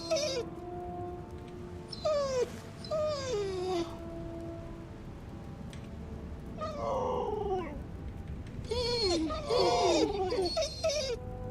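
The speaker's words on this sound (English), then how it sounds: "that's just sad dog noises" Mournful whimpering and whining from a dog character named Garm in the video game Guild Wars 2, several rising and falling cries over soft ambient game background, fairly close and moderately loud.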